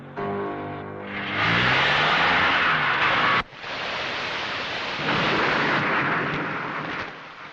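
Heavy rain pours in a dense roar, with a deep thunder-like rumble and a sudden break midway before the downpour continues.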